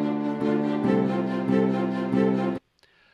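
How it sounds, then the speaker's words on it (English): An orchestral mockup of sordino strings, epic horns and choir carries a pulsing melody line in sustained chords that swell in rhythmic bursts, then cuts off abruptly to near silence. "I used the sordino strings, I used the epic horns, and I used the choir to get this melody line"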